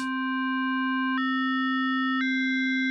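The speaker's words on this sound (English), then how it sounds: "you can see we're getting sort of like a combination of a square wave and a sine wave" A Dexed software emulation of the Yamaha DX7 synthesizer holds a steady electronic tone that blends square-wave and sine-wave character. Its upper harmonics shift upward in two distinct steps over a constant low fundamental, clean and alone.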